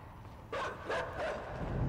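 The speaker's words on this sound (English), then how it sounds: "I am hearing the dogs." A few dogs bark outdoors in short, separate bursts at a moderate distance, with no talking.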